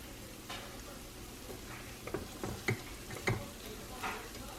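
A keto cheese shell fries in a pan with a faint steady sizzle, while a few soft scraping and tapping touches from a utensil come through near the end.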